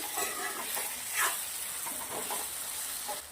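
Bottle gourd with chana dal, turmeric, salt, coriander-cumin and red chilli powder stirred in a pan, giving a soft, steady scraping and sizzle with no talk.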